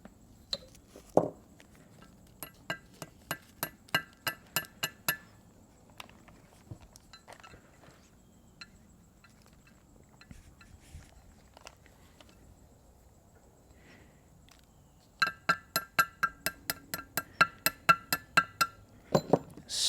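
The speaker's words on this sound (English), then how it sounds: "Slowly tapping them in there." Metal parts of a GM 4L80E transmission being tapped into place, heard as two bursts of quick, evenly spaced metallic taps, about a dozen each, near and clear, with a quiet stretch of light handling noise between them.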